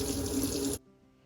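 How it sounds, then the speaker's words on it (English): Warm tap water runs steadily into the tank of a Bissell Little Green Machine carpet cleaner, a close, bright rushing stream that stops abruptly partway through, leaving near silence. "And then we're just gonna fill it with warm tap water."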